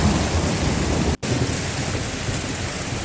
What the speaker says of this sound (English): Oh sure, Dallas gets thunder snow, but here we get thunder hail.